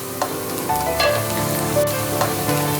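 Chopped medium onion sizzling in a pan while cooking tomato and corn soup, a steady close frying hiss with occasional stirring scrapes and no talking.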